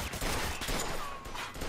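Sustained gunfire in the Mafia 2 video game, a dense rattling fusillade of overlapping shots filling the short stretch at steady loudness.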